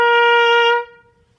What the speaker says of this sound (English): plug in your mouthpiece into your cornet just like so